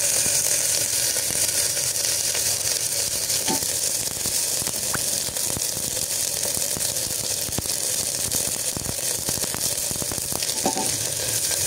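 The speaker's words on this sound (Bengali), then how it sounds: "এখন দিয়ে দিলাম আদা রসুনের পেস্ট।" Ginger-garlic paste sizzles loudly in a pan of frying onions, a steady crackling hiss throughout with occasional scraping stir clicks, close up and without talk.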